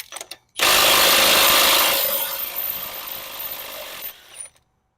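An impact gun or power tool whirs loudly to back a lower ball joint nut off a 2014 Chevy Silverado 4x4, one sustained burst of about three and a half seconds that starts hard and tapers before cutting out.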